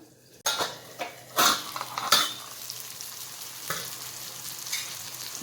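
Guava vegetable being stirred as it fries in a pan, with a steady sizzle broken by loud utensil scrapes and clanks against the pan, close up and bunched in the first few seconds.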